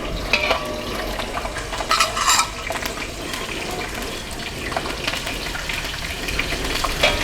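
Green chillies slit down the middle frying in hot oil with garam masala for Chettinad chicken biryani: a continuous crackling sizzle with stirring scrapes, close and fairly loud, with no voice over it.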